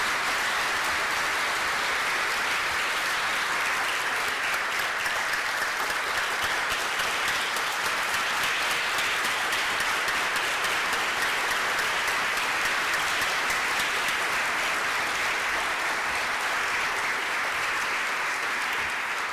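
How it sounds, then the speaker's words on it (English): Sustained, loud applause from an audience at a tax meeting's pro bono award presentation, a dense even wash of clapping lasting the whole stretch with no pauses or speech. "maybe a round of applause"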